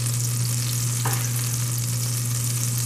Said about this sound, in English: Now we're getting a little frothy, and we can add our onions